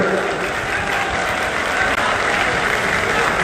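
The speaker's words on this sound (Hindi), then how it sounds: "जोरदार तालियां करने के लिए, जोरदार तालियां हर तरफ से।" Loud, steady applause from a large crowd at a public event, a dense wash of clapping that stays constant and close throughout.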